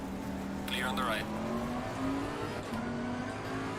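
A Bentley race car passing in the racing game Assetto Corsa Competizione at Brands Hatch, its engine whine sweeping up and down over the steady drone of the player's own car, loud and continuous, with a voice talking over it.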